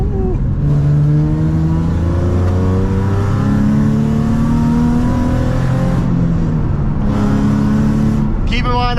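Nissan G35 drift car fitted with a GK Tech angle kit, its engine droning and revving steadily throughout a drive, loud and close, with a brief lift near the end while someone talks over it.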